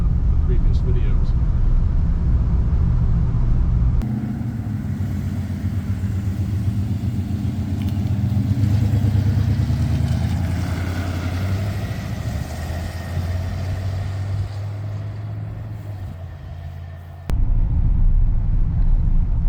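A 1956 Packard with a 374 cubic inch, 290 horsepower overhead valve V8 and Rochester four-barrel carburetor rumbles steadily from inside the cabin while driving, the engine note swelling and settling with speed changes.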